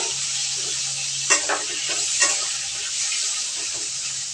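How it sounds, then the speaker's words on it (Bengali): Ash gourd pieces fry in hot white oil, a constant close sizzle broken by a couple of sharp stirring scrapes and clinks of the spoon against the pan. "তেলটা গরম হয়ে আসলে আমি চাল কুমড়োগুলো আবার একটু ভেজে নেব।"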